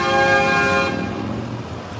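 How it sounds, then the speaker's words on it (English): A truck's loud air horn blares in a single sustained tonal blast, heard near a rail crossing in Jensen Beach, then cuts off, leaving low rumbling traffic noise. "That was not a train horn, everybody. Some truck has a loud horn"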